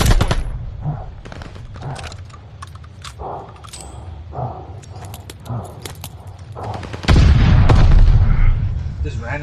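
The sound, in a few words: grenade explosions and gunfire in a video game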